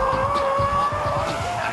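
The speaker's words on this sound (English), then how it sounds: "So when you release the gas, your tail will slide. Then you just counter-steer and control." A car drifts with its tail sliding out under counter-steer on a racetrack, tires hissing and squealing over steady engine noise, close and loud for a brief stretch.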